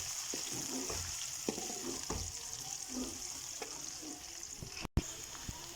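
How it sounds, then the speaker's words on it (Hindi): Chopped onions fry in a pan with cumin, a soft steady sizzle with occasional stirring scrapes and knocks. "अब हम डालते हैं ये जो ब्रीक मैंने प्याज किए हुए हैं चॉप। अब हम इनको अच्छे तरीके से कर लेंगे रोस्ट।"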